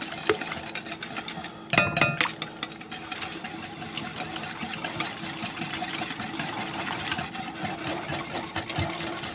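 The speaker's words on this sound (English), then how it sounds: "Let me grab a whisk, because this is all well and good, but a whisk is going to work me better." Eggs whisked in a bowl in a home kitchen for pumpkin waffles, a busy scraping and rattling clatter of wire against the bowl with a sharp knock near the start, continuous and close.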